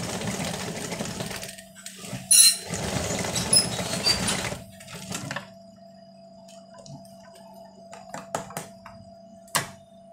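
A sewing machine lock-stitches a shawl collar jacket in short close bursts of rapid clatter, with brief pauses and a few light handling knocks between runs; nobody speaks.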